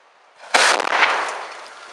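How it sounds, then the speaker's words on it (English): A homemade thermite box cutter device blasts inside a steel column outdoors, a sudden loud burst erupting after a quiet lead-in, then a rough crackling roar that fades over about a second and a half. "I think my box cutter blew about 30 feet up, consuming valuable energy and trimming my tree in the process."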